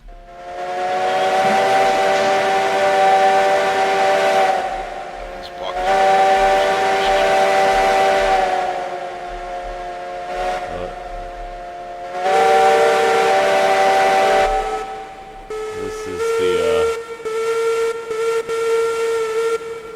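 Steam locomotive whistles in RailRoads Online blow in three long, loud sustained blasts at a depot parade, followed by a shorter series of choppy toots with hissing steam.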